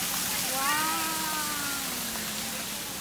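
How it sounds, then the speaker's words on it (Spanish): A constant broadband rush of flowing river water in Guatemala, with a voice briefly speaking underneath. "Miren qué chorrón de agua para bañarse uno ahí"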